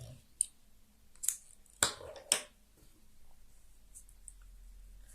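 Scissors snip through yarn while making a crocheted dress for a Barbie doll, giving four or five sharp, close clicks spaced about half a second apart against a quiet room.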